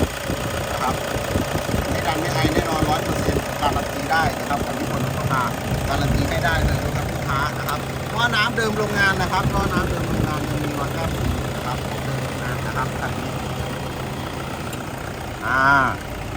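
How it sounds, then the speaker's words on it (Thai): A 2010 Toyota Vigo Smart Cab pickup with a 2.5 engine idles steadily at a used-car lot, a continuous mid-heavy rumble close to the microphone while someone talks over it. "เครื่องดีแท้แน่นอนนะครับคันนี้นะ เสียงเครื่องดังนิดๆไม่ดังไม่ไอแน่นอนนะครับร้อยเปอร์เซ็นต์บอกได้เลย"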